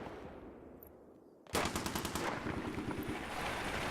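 Rapid bursts of automatic gunfire in Battlefield 3 erupt suddenly after a quiet stretch, loud and close, continuing as a dense crackling barrage.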